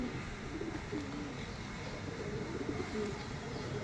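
Pigeons being shown for sale coo softly against a steady hiss of background noise, a low, faint cooing that repeats through the stretch with no talk.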